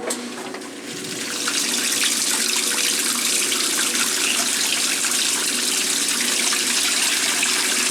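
A 1996 Maytag Dependable Care Plus top-loading washer shifts into its rinse or spin cycle, with a continuous rushing, splashing wash of water that swells after the first second and holds steady and close.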